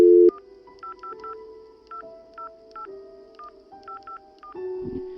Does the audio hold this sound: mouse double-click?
no